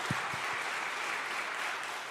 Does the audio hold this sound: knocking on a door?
no